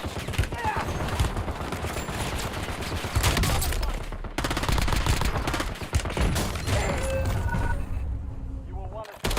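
Sustained automatic gunfire in the Black Ops battle royale game, dense rapid bursts of shots firing almost continuously, loud and close, with a brief pause near the middle and a voice talking over the shooting.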